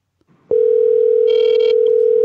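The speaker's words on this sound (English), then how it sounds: "It's ringing." An outgoing voice call produces a steady, loud electronic ringback tone that starts abruptly and holds unbroken for nearly two seconds, with faint background voices under it.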